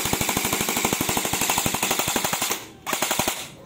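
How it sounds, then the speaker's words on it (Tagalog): A Noveske airsoft rifle fires on full auto in two rapid bursts of sharp, evenly spaced mechanical cracks. It is close and loud, with a short pause between the bursts. "ito, isang full auto ulit para makita nyo nagre-recoil"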